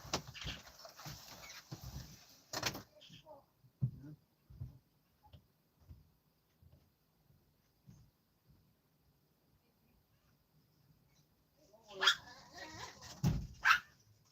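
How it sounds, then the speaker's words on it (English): Several dogs bark and yip in short bursts, loud at the start and again near the end, with quieter scattered yelps and whimpers between and a person talking in the background. "I'll let those dogs back in."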